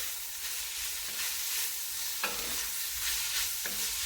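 Butter stirred around a hot pan, sizzling in a steady, close hiss with a few soft scrapes and clicks of the spoon against the pan.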